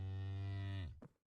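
A cow in the video game Minecraft gives one long, low, steady moo that fades out at the end, loud and close with nothing else around it.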